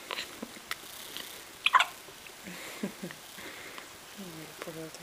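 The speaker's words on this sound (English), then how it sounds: "poor little thing sneezes and hiccups" A baby hiccups a few times, small sharp catches spaced through quiet room tone, with one brief louder burst like a sneeze partway through.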